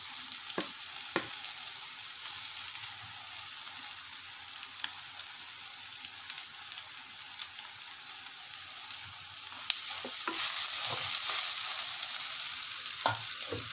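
Ginger pieces and chana dal fry in hot oil, a steady soft sizzle with faint scattered crackles and a brighter, slightly louder hiss near the end.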